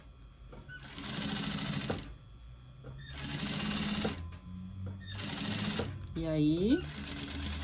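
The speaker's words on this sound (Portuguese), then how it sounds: "aqui a gente vai fazer uma costurinha de segurança" Domestic sewing machine stitching a safety seam along a small fabric bag, running in three sustained bursts of steady rapid whirring with short pauses between, a voice speaking briefly over the motor near the end.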